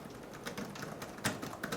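Keys clack on a Microsoft Surface Book keyboard in a quick, uneven run of light taps, fairly soft and close, with a couple of sharper strikes near the end.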